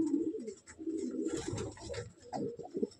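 Andhra pigeons coo in a loft, a cluster of low throaty rolling calls close by that overlap and swell, with a brief quieter gap before another bird joins in.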